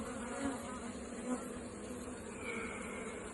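Steady, droning buzz of many honeybees on a hive frame, a dense continuous hum with a few louder swells as individual bees pass close by.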